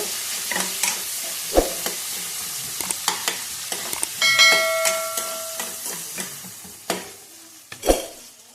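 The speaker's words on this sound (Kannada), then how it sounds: "ಈರುಳ್ಳಿ ಹಾಕ್ಕೊತಾ ಇದ್ದೀನಿ ಇದು ಸ್ವಲ್ಪ ಫ್ರೈ ಆಗಬೇಕು ಗೋಲ್ಡನ್ ಕಲರ್ ಬರಬೇಕು" Finely chopped onion fries in a pan with a steady soft sizzle, punctuated by sharp spoon knocks and scrapes and a brief whistling hiss midway, close and without voices.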